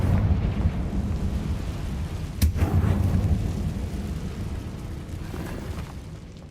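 A Confringo spell in the Hogwarts Legacy video game sets off a deep rumbling explosion with a sharp burst near the middle, then a long low roar that slowly fades, loud and close.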